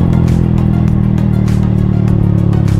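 A Rusi Flash 150i motorcycle cruises along a road carrying a rider and passenger, its engine holding a loud, steady low hum with constant wind rush and no speech.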